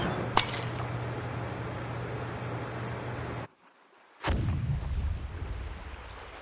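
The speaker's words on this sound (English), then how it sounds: "Sounds like some kind of explosion near the clinic." In the video game Reverse: 1999, an explosion goes off near a clinic. A sharp crack is followed by a sustained rumbling roar with glassy breaking texture, then a sudden cut to silence and a second abrupt burst of loud noise.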